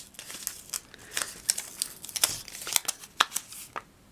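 A rolling paper trimmer slides across an envelope, giving a close series of light crinkling, scraping and snipping ticks as the blade cuts through the paper, with no voices.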